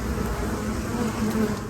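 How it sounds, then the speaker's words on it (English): Italian honeybees swarm around a backyard hive, their dense, steady buzzing a continuous close drone with no pauses or voices. "These are Italian honeybees"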